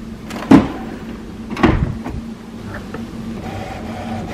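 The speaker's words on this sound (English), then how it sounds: "Finally, close the ink access door." Ink access door on an HP Smart Tank 720/7001 all-in-one printer being shut, giving two distinct plastic clunks about a second apart over a steady low machine hum.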